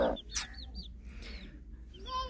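A hen clucks softly while eating millet with her chicks, a few short chirping calls from the chicks, close by over a low background hum.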